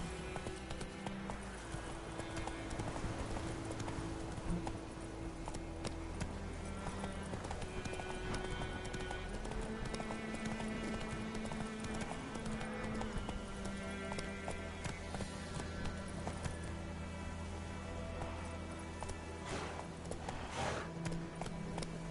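Horse hooves clip-clop steadily in The Witcher 3, a continuous rhythmic trot heard under game music and ambient sound, with no talking.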